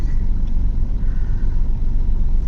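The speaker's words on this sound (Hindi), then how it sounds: "ये कार्स कहाँ से आ रही हैं?" Cars pull out of a parking area onto a busy Agra street, giving a steady, close, low rumble of engines and tyres that rolls on without a break.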